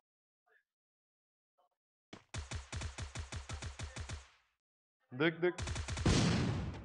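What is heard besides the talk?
gunfire from a bot shooting from behind in Free Fire, a video game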